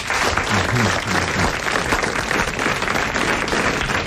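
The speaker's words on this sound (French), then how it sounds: "Vous applaudissez donc Monsieur Lattré de Sarthe-Lespas." Studio audience applause on a 1988 French television quiz show, a loud, continuous burst of many people clapping that holds steady the whole time, with a faint voice briefly underneath.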